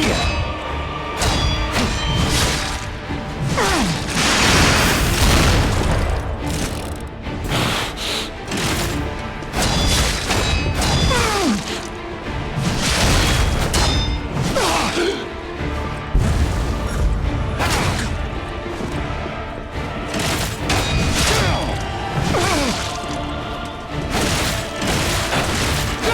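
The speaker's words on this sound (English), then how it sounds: "Explosions." Repeated booming explosions and heavy thuds in the video game Lies of Pinocchio, during a DLC boss fight, loud and dense over continuous game music and effects, with crashes and clangs scattered throughout.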